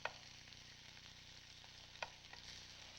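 Onions sizzling as they fry in a pan for a pepper-steak-style dish, a faint steady hiss broken by a few sharp clicks of a utensil, with no talking.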